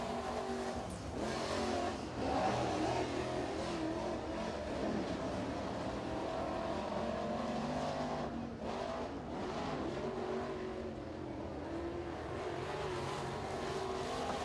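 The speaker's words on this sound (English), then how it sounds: "The next car out onto the speedway, his second year in a Crate Late model." A Crate Late Model race car runs a qualifying lap at Crossville speedway, its engine roaring loud and steady throughout with surges of revving, alone with no talk over it.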